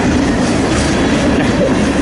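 Freight train rolling along the rails on the Harrisburg line, a loud, close, steady rumble and clatter of cars passing without a break.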